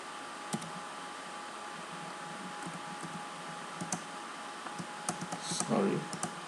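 Someone types C# code on a computer keyboard with scattered, irregular key clicks that build into a quicker burst near the end, close but quiet beneath steady background hiss; a voice briefly speaks.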